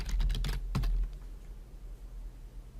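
Keys clatter on a computer keyboard in a quick, close flurry of typing that lasts about a second, then fades into quiet room tone.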